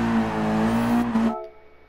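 A race car engine in GT Sport on the Monza drift course, holding a loud, steady high-rev tone before cutting off abruptly near the end, with no talk.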